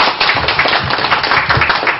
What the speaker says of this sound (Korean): 큰 박수 한번 다시 부탁드리겠습니다